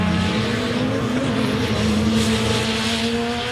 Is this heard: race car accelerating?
yes